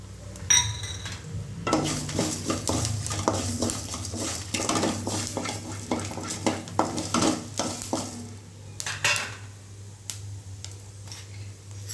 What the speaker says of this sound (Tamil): இப்போ வெந்தயம் சேர்த்துப்போம்.